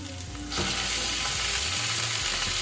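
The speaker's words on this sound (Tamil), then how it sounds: "இந்த வெங்காயத்தை அப்படியே நல்லா பொன்னிறமாக வதக்கிட்டு இது கூட நம்ம எடுத்து வச்சுருக்க ஈரலை சேர்த்துக்கலாம்" Onions and mutton liver fry in a pan, a dense continuous sizzle that swells louder about halfway through, with faint stirring scrapes under it, close and steady with no talking.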